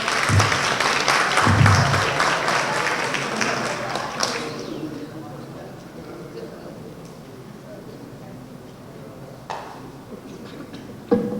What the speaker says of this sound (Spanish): Un aplauso a la ganadora, por favor.